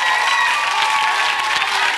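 Studio audience at a national children's Eurovision concert applauding the performers, a dense continuous roar of clapping throughout, with a few faint tonal strands above it.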